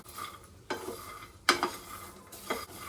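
Peanuts dry-roasting in a pan for jaggery peanut ladoo, stirred with a utensil that scrapes and clinks against the metal in three distinct strokes over a faint background rustle.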